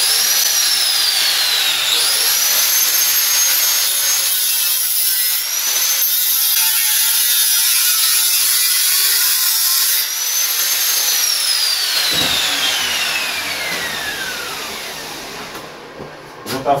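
Power cutting through a metal wheel rim for a homemade stove built from scrap, a loud continuous grinding whine with shifting pitch sweeps that runs throughout and tapers off near the end.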